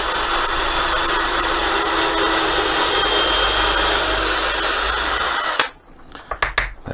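A power drill drives into wood while building clamp storage, giving a loud, steady high whine for several seconds before cutting off, followed by a few faint knocks and handling sounds.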